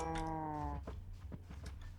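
Cows mooing in a survival video game: one long, close, drawn-out moo opens, followed by a few short, fainter lowing calls and thuds against a low background hum, with no talk.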